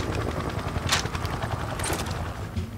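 Rapid automatic fire from an MP5 submachine gun in Modern Warfare, a busy stream of close shots with a couple of sharper bursts standing out over a constant din.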